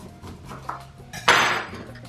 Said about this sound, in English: Just stir that up and squeeze a little lime.